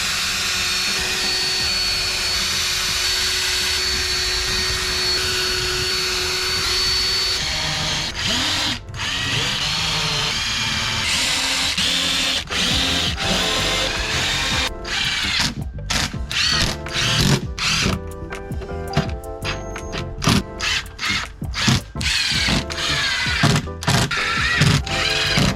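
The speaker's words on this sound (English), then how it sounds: "I'm going to drill pilot holes and then countersink holes so that the screws are flush with the tabletop." A power drill bores pilot and countersink holes into a wooden tabletop, its motor whining steadily at first, then breaking into rapid bursts and stops with loud mechanical clatter, close up and without speech.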